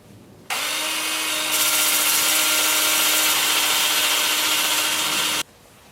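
A power sander works the surface of a live-edge hawthorn wood bowl on a workbench, a steady loud whirring hiss that starts abruptly, grows brighter after a second, holds for about five seconds, then cuts off, with no talking.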